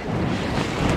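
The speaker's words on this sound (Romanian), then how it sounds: "a început iar vântul tare" Strong wind buffeting the microphone in the Bucegi Mountains, Romania, a loud continuous low rumble and roar with no voices.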